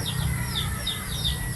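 Tethered mother hens and their many free-roaming chicks make brief, evenly spaced peeping clucks, about five in quick succession, close by over constant low background noise.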